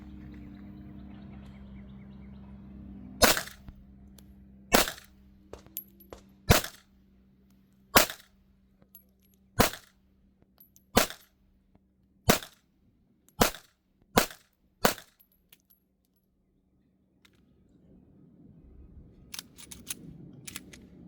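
Smith & Wesson Performance Center BodyGuard 2.0 Carry Comp pistol firing Winchester white box 95 grain rounds: about a dozen sharp, loud, close shots at a steady pace of roughly one every second or so, then quiet.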